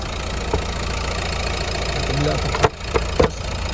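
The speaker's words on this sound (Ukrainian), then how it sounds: "двигунчик працює чудово" A 2013 Renault Megane with a 1.5 dCi diesel idles steadily under the bonnet, a close, even rumble interrupted by a few brief sharp knocks and clicks near the end.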